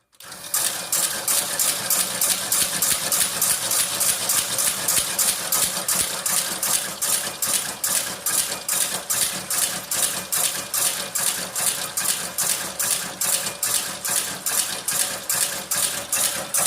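A Tolchin/Shipov drive mechanism runs at standard speed with its brake circuit, giving off a fast, even mechanical clatter of sharp repeating ticks, close and steady throughout.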